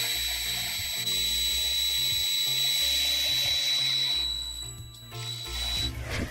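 An electric drill whines steadily at low speed in slow drill mode during work on a Commodore computer upgrade, a faint continuous motor hum with a brief dip near the end.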